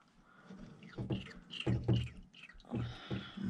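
Fresh Castrol motor oil pouring from a bottle into a car engine during an oil change, heard as uneven glugging and gulping liquid bursts at close range, with faint background sound between pours.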